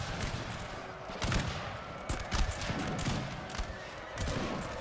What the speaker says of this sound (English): as the middle guard open fire, the dragoons will fall